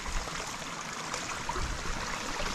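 Water gushing from a pipe into a rice paddy, a steady moderate rush and trickle heard close up with no voices.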